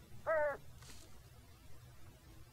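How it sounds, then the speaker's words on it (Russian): A single short crow caw rings out in the S.T.A.L.K.E.R. video game, close and clear, over a low rumbling ambient background. "Такой звук был, как будто ворона, блин, у меня на плече сидит."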